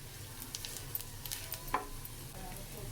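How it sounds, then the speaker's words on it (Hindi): Soft, steady sizzle of dry spices, salt and crushed coriander roasting in a pan over a low flame for samosa filling, with faint stirring scrapes and quiet, close crackles. "स्लो फ्लेम पे आपने इसको भूनना है मसालों को।"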